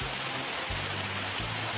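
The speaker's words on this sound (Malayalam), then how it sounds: "ഇതിൻ്റെ ഇടയ്ക്ക് നമുക്ക് നല്ലൊരു മഴ കിട്ടിയിട്ടുണ്ട്." Steady rain pours down during the first summer shower, a dense, even hiss with a low droning hum running underneath throughout.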